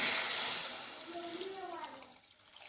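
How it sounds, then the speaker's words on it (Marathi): Water pours into a cooking pot of dried-fish curry with cut potato and tomato, a steady rushing stream that starts loud and gradually thins and fades over a few seconds, with a faint voice underneath. "व्यवस्थित पाणी ओतून घेऊया"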